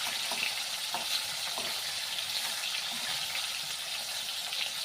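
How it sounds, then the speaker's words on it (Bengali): Fish fries in oil with an even, moderately loud sizzle and crackle that stays steady throughout, broken by a few faint taps. "এখন মাছটা ভেজে নেব।"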